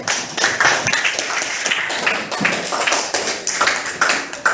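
A classroom of students claps together for a few seconds, a fairly loud cluster of hand claps with uneven bursts and dips, no talking over it.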